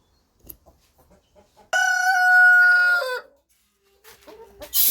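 Chickens cluck softly nearby, then one lets out a loud, sustained crow-like squawk before quieter clucks return.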